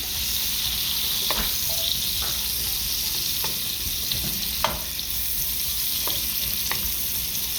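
Garlic and onion sizzling in oil in a pan while cooking a lobster dinner, a continuous close crackling hiss broken by occasional light clicks of utensils, no talking.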